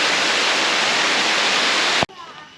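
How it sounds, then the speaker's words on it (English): Torrential downpour during a hike toward Khlong Chak Waterfall, a loud, dense, continuous hiss of heavy rain that cuts off abruptly near the end. "we're now in a torrential downpour. And I mean torrential downpour."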